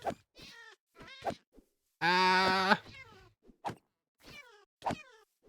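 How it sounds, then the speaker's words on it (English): A winged cat monster in a video game gives a loud, drawn-out meow, set between short clipped game sound effects and voice-like blips. "I think I'm gonna beat this winged cat."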